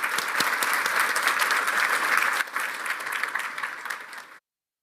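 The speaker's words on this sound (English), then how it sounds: "Please give him a round of applause." A conference audience at a TypeScript AI event breaks into sustained applause, dense clapping from many hands for about four seconds before it cuts off abruptly.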